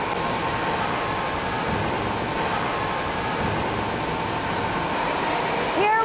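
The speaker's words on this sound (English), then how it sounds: "Here we've come to the sterilization and the pasteurization process." A konjac noodle sterilization and pasteurization machine runs in a factory, giving a steady, loud, broadband mechanical roar with a constant hum throughout.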